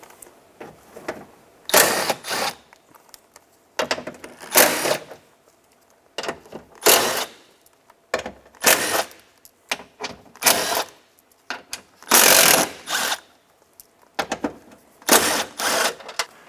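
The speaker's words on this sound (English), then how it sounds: "There's 7 10mm bolts holding on the window regulator. We're going to remove those now." A ratchet is removing 10mm bolts from the window regulator of a 2000-2006 Toyota Tundra, with repeated bursts of fast clicking separated by short pauses, close and clear, with no talking.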